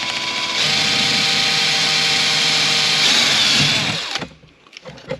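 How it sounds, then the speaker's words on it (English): A power drill whirs loudly and steadily for about four seconds while drilling into a van door panel, then stops, leaving a few faint knocks and handling sounds. "Don't keep your finger back there when you drill it."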